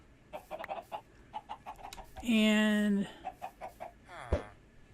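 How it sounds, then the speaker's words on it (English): Captured chickens in a video game cluck in short, quick bursts, broken by one longer drawn-out squawk, with a voice briefly heard. "We've captured some chickens."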